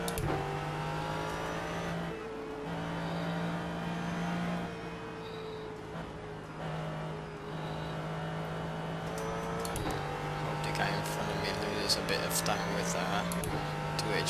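HPD race cars passing on the Road America circuit, heard from inside a Ford GT sports car whose steady engine drone dominates, with rising and falling passes of other cars and a voice talking over the noise.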